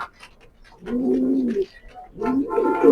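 Racer pigeons, a light-coloured breeding pair, give two deep throaty coos, each about half a second long and close by, with a soft pause between them.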